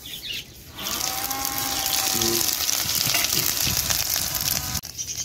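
Dried red chilies and five-spice seeds hit a very hot kadai and crackle into a loud, steady sizzle that holds for several seconds, with a faint tonal hum in the kitchen behind it.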